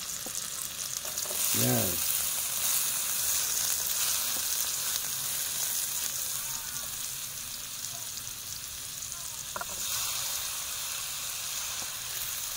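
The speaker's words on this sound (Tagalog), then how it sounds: "Ngayon magigisa na tayo ng sibuyas, bawang" Onion and garlic sautéing in a pan, a steady close sizzle with occasional stirring scrapes and clinks, one brief word spoken near the start.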